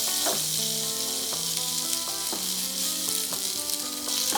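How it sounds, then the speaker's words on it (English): Squash pieces sizzle in a skillet over medium-high heat, a loud continuous frying hiss with no one talking, while some background music plays beneath it. "The sizzle you wanna hear."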